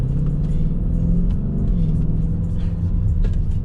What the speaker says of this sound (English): big fun on the highway in the Lambo